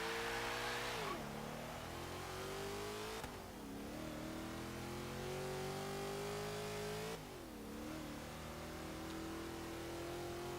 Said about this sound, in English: great sounding engine on this car